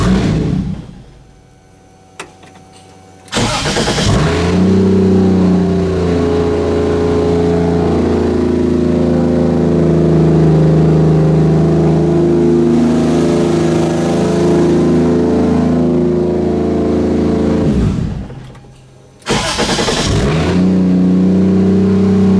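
A Toyota 2JZ single-turbo engine swapped into a Nissan 240SX fires up for its first startup, a loud, close, continuous engine roar that drops away briefly twice before surging back.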